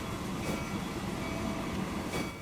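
Passenger train in Transport Fever 2 rolling steadily on its line between Brighton and Hastings, a continuous low rumble with faint rhythmic wheel clatter, close and unbroken, with no voices.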